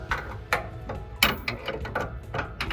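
A ratchet wrench clicks in short bursts while tightening a swivel bolt on an AMP Research Bed Step 2 being installed on a 2021 Ford F350 truck bed, close-up with irregular pauses between strokes.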